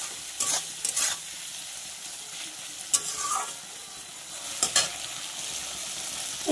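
Tomatoes fry in a pan with a steady low sizzle, broken a few times by the scrape and clatter of a spoon stirring them.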